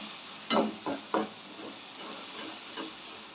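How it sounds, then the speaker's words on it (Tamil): Onions and four green chillies sautéing in a pan for an egg gravy, with a few distinct spatula scrapes early on over a soft, continuous sizzle. "வெங்காயம் வந்து கொஞ்சம் நல்லா கலர் மாறட்டும் அது வரைக்கும் கொஞ்சம் வதக்கி விட்டுக்கலாம்"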